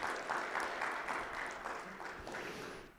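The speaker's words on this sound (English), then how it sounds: "let's give him a hand of applause" Audience applause at an event, a short stretch of moderately loud, continuous clapping in a room, heard somewhat distant and fading slightly at the end.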